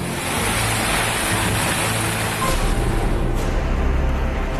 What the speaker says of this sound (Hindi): इस बाढ़ के प्रचंड प्रवाह को देखकर